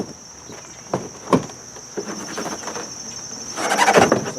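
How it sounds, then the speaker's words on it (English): Insects buzz in a steady high drone outdoors while someone installs a canopy on a Massey Ferguson GC1720 tractor, with scattered handling clatter and footsteps and a louder rustling burst near the end. "The bugs out here today are terrible."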